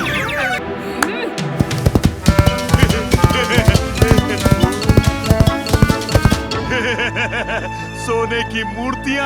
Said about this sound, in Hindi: चल मेरे घोड़े, जल्दी चल, रफ्तार बढ़ा।